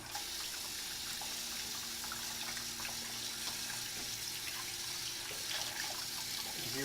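Steady running tap water pours into a sink while a gutted catfish is rinsed, a continuous close hiss and splash with no pauses.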